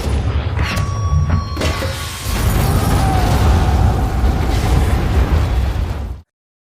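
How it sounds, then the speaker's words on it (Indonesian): A large gas cylinder blows up in a film action scene, a heavy rumbling blast with crackling debris that swells and roars for several seconds before cutting to silence. "sebuah ledakan besar pun terjadi tepat di ruangan tempat Kozlov berada"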